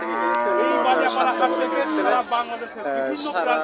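Australian-breed bulls low at a weekly cattle market in Baliapara, Kushtia, with repeated harmonic moos close by, overlapping continuous conversational voices and market chatter throughout.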